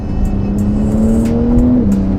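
A 2021 Porsche 992 Turbo S engine revs up steadily with a rising pitch, loud and close, on an open road, then briefly drops as it shifts gear before climbing again.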